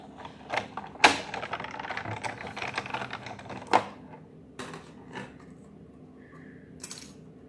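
Scissors snip through a coloured paper image for a stamped sailboat card, a series of sharp, close cuts with crisp clicks and rustles, irregular and separated by short pauses.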